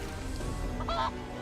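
Brief honking chicken cry from the video game Divinity: Original Sin 2, a single short squawk near the end, heard over game background sound.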